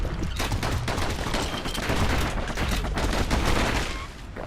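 Dual slinger pistols fire in the video game Bastion, a dense, rapid barrage of overlapping shots that stays loud and steady throughout.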